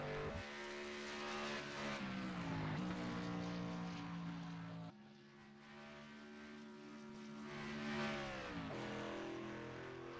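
Race car engine in a sim racing game at Gateway oval, a moderately faint drone that climbs in pitch through the gears, drops abruptly midway, then rises again, with no voices.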